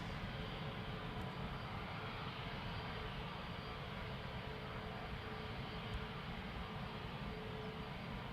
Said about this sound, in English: EasyJet Palma de Mallorca rolling on runway 24.